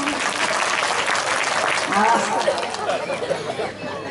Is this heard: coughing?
no